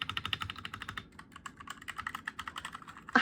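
Rapid typing on a wireless 60% mechanical keyboard, close and crisp, with dense clicky keystrokes in a steady flurry and a brief lull near the middle before the tapping resumes.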